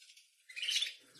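A newly hatched, hand-incubated grey swallow chick chirps faintly, making thin high-pitched cheeps. A short cluster of tweets rises in the middle of the clip against an otherwise quiet background.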